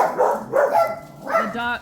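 Dogs barking in short, sharp bursts close by, three quick yaps over under two seconds, mixed with a person talking.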